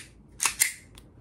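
A Glock 42 green gas BB pistol fires two quick sharp pops in succession, followed by a fainter third click, all short and close with no talking.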